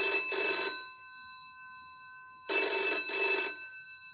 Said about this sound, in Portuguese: Nick, toca um som de telefone quando você recebia uma chamada aí